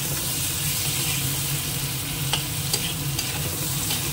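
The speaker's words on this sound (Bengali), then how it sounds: "এবার আলুটাকেও একটুখানি ভেজে নেব" Potatoes frying in a pan give a steady, close sizzle throughout, with a few sharper crackles and spits near the end.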